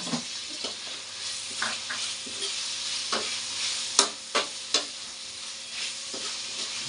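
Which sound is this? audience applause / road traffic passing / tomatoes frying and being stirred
tomatoes frying and being stirred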